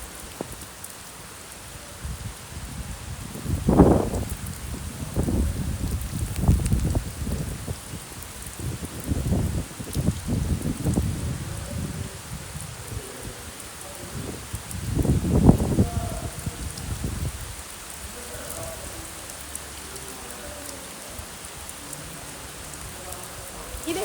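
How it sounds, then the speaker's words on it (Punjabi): Heavy, steady rain patters on surfaces throughout, with several louder low rumbling bursts that rise and fade, and faint voices now and then. "ਦੇਖੋ ਕਿੰਨਾ ਤੇਜ਼ ਆ ਗਿਆ ਅੱਜ ਤਾਂ ਪੂਰਾ ਮੀਂਹ ਆ ਗਿਆ"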